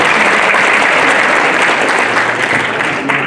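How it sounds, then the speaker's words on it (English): An audience at a high school orchestra and jazz band winter concert claps loudly and steadily in a dense burst of applause that fades slightly near the end. "let's give them a round of applause for all that they do to support our students as well"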